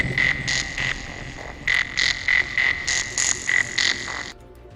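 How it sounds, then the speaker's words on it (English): Frog song played as a stream redeem: repeated croaks in short rhythmic bursts with a steady high whistle-like tone running through, loud and close, with no talking. "How about the frog song?"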